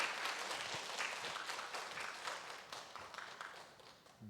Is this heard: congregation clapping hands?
yes